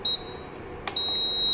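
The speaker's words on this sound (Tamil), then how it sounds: "பீப் பீப்னு ஒரு சவுண்ட் வந்துக்கிட்டே இருக்கு பாருங்கள்." Short electronic beeps from an induction stove rejecting an incompatible pot, a high thin tone that repeats with brief gaps and sounds close and clear over quiet room noise.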